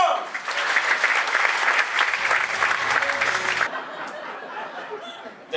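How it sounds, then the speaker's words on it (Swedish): Audience at a live stand-up comedy gig bursts into loud, sustained clapping with a few chuckles mixed in, then the applause cuts off and a quieter room murmur remains. "Ge en stor applåd till Sebastian Andersson!"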